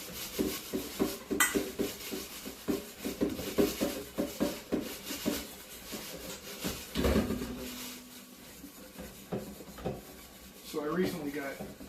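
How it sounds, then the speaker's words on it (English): A disposable stainless steel scrubby rubbing and scraping in quick repeated strokes, close and moderately loud, with a person talking over it. "So I recently got this stainless steel scrubby, and they're disposable."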